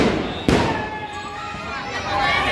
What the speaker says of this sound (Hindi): और गाइस अभी ये वाला स्काई शॉट चलाते हैं।